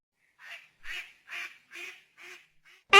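A cartoon swan stepping into a pond gives a run of six short, evenly spaced nasal quacks, loud and close. A sharp, bright burst follows right at the end.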